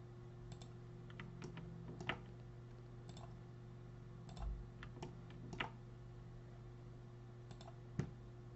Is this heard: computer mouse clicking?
yes